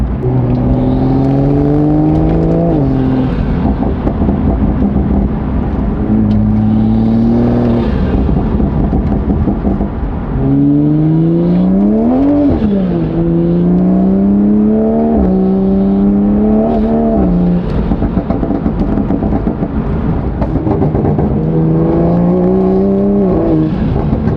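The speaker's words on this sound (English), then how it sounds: "So now let's top her off and go for our second test drive." Toyota Supra on a test drive, its engine loud and close as it accelerates repeatedly, rising revs climbing in pitch then dropping at each gear change across several pulls.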